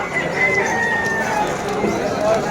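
Roosters crow in drawn-out calls at the Malabon pet market, moderately near, over a dense bed of crowd murmur and market bustle, with voices talking throughout.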